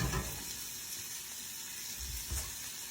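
Fajita vegetables sizzle in a pan for a quesadilla lunch, a continuous soft crackle with a few louder bursts, close and fairly quiet.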